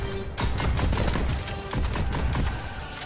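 Rapid bursts of gunfire in the rhythm shooter Pistol Whip rattle in close, loud volleys, with a brief pause between two dense runs of shots.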